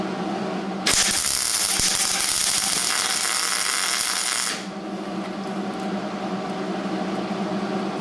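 Welding on a seam of a rear wheel arch patch on a Triumph TR4 gives one harsh, crackling burst lasting about four seconds, then stops, leaving a low background hum.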